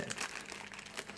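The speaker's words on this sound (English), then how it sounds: "Got some plastic here as padding." Plastic packing padding inside a box of Star Wars collectible cards crinkles close by in a dense, continuous rustle with a few sharper crackles, and nothing else is audible.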